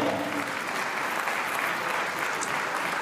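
Spectators give sustained, dense applause at a petanque semi-final of the PPF 2022, an even wash of clapping that holds through the whole stretch.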